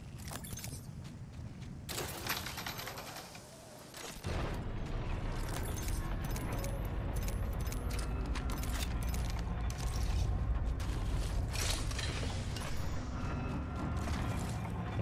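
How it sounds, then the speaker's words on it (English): Mechanical creaking and grinding as a bridge raises in the video game Apex Legends, a continuous dense clatter with rattling and occasional knocks, steady and moderately loud for the whole stretch. "I'm raising the bridge or something."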